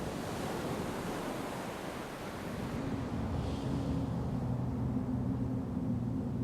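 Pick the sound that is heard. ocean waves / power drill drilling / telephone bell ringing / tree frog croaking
ocean waves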